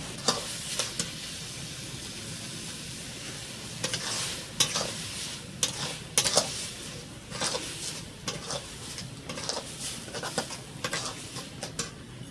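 Chhana and sugar are stirred together in a pan for sandesh. A gentle sizzle runs under repeated, irregular scraping strokes of a spatula against the pan, some sharper and louder than others.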